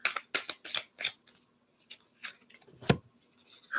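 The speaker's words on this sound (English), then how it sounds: "All right, we'll do one more shuffle." Tarot cards being shuffled by hand, a quick run of crisp flicking riffles followed by a few scattered taps and one sharp snap, close and fairly quiet, no talking.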